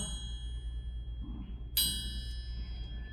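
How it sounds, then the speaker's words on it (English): A single bright bell strike, used in a classroom to get children's attention, rings out and fades over a steady low hum, with quiet background noise before and after. "if I like use a bell"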